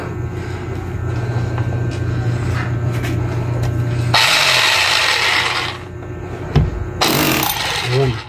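An electric hammer runs with a harsh mechanical rattle and grinding, rising to louder bursts partway through and cutting in and out near the end, close up and without talk.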